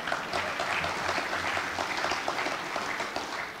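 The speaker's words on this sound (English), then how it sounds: "That always gets the biggest round of applause" A crowd at a Brexit debate event applauds, giving a loud, dense and steady wash of clapping that fills the whole stretch with no voices on top.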